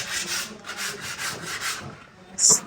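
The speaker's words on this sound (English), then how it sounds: "Then after the angle grinder, we use the sandpaper." Rhythmic back-and-forth rubbing of sandpaper on large sealed timber, a hissing scratch repeated several times close up, ending with a brief sharper squeak.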